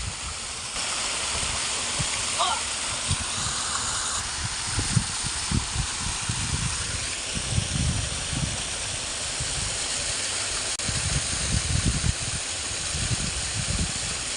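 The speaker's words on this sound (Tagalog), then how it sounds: "Merong waterfalls dito." Waterfall on the Palakol River in Pampanga, a steady loud rushing roar of falling water close by, with low rumbling and wind buffeting.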